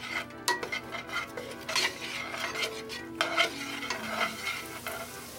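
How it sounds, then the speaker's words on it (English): Chopped onions are stirred in butter in a soup pot, a spoon scraping and clinking against the metal over a soft continuous sizzle, close and busy with repeated strokes, no talking. "we're gonna be mixing this around until the onions become translucent and that they're cooked a little bit"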